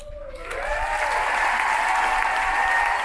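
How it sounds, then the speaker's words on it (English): A cruise ship audience at a welcome show breaks into loud applause, swelling within half a second into sustained, dense clapping from a large crowd that keeps going to the end. "give them a huge, huge round of applause"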